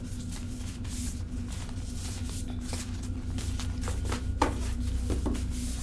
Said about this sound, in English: Shuffle them up like some cards